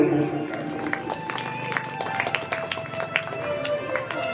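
An audience at a Shiv Mahapuran religious discourse breaks into steady sustained clapping, a dense crowd of hands filling the hall, with a voice heard over the applause.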